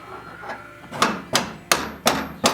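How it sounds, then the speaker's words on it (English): A wrench is being struck with a hammer against a seized bolt head during an Air Lift Performance suspension install on an Audi Allroad B8.5: five sharp metallic hammer blows land at an uneven pace, close and loud, with no talking. "I was putting the wrench up against the head of the bolt like this, and then hammering it out"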